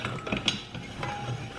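Short ratcheting clicks from a compression tool being cranked onto a Ski-Doo 900 ACE clutch, a few quick mechanical ratchet-and-gear bursts up close with no talking.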